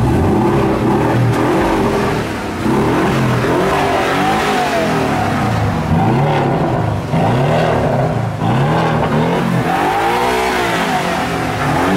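A Porsche engine revs repeatedly in loud, close bursts, the pitch climbing and falling in a rough, throaty rhythm for the whole stretch, with no voices over it.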